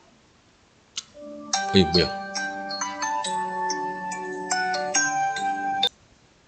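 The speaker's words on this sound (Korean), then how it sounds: "갑자기 전화가 와가지고" An incoming-call phone ringtone plays a bright, repeating electronic melody for about five seconds, loud and close, with a brief spoken question near its start.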